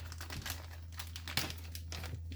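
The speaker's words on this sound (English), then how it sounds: "We'll take these out of the plastic bag here" Car kit parts being pulled from a plastic bag during a Tamiya Mustang GT4 model build, with a steady run of close, soft crinkling and rustling over a low constant hum.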